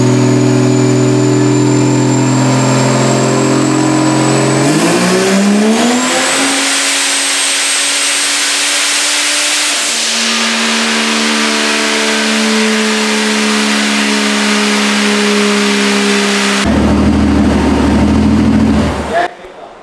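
Boosted stock Vortec 4200 engine screaming through a loud dyno pull, its note climbing steadily as revs rise, holding high, then dropping as the throttle closes, with boost whine over a heavy, continuous roar.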